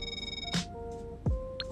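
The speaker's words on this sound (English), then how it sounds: "We all know how annoying phone calls are." A GTA Online in-game mobile phone rings with a bright harmonic electronic ringtone, accompanied by a couple of short swooping game interface sounds.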